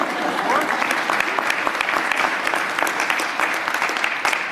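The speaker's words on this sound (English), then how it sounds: "Give them all a round of applause." Hearty applause fills a mayoral press conference, many hands clapping in a dense, continuous patter with distinct individual claps and a hint of voices beneath.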